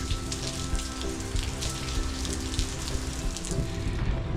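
Steady rain pattering on a shelter roof on a rainy day, a dense, constant hiss of drops close by with no talk.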